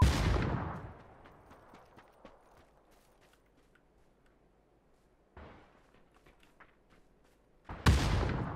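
Grenade blasts and gunfire around a house in the video game PUBG, with a loud burst at the start, scattered faint shots through the middle, a sharper crack near 5 seconds and another loud blast at the end.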